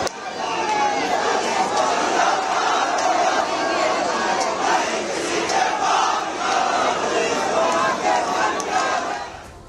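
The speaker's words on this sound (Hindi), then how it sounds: "तो प्रदर्शनकारी हिंदू अपनी आवाज बुलंद कर रहे हैं।" Large crowd of Hindu protesters shouting slogans in the street at a mosque protest in Sanjauli, a dense continuous roar of many voices rising and falling without a break.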